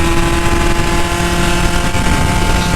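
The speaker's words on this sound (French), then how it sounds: "vous entendrez bien le bruit de la moto, parce qu'elle fait un vrai bruit" Motorcycle engine droning steadily while riding at around 45 km/h, loud and continuous with a constant tonal hum and wind rumble, no talking.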